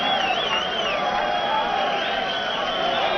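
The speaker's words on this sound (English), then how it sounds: "you can really tell by listening to the crowd here" A boxing arena crowd roars for fighter Hido Silva during his bout against James Monroe, a loud, dense, continuous wash of cheering under a commentator's voice.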